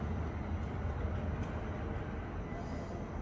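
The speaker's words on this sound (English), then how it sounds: "We've made it to the train station." A railway station in Lisbon carries a low, constant rumble of trains and station bustle, with a muffled murmur of voices in the background.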